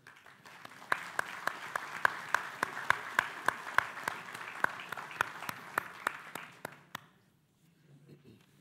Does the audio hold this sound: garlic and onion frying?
no